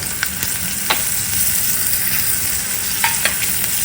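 Chillies and asafoetida sizzling in hot oil for a tempering: a loud, continuous crackling fry with occasional sharp pops and spoon clicks while being stirred.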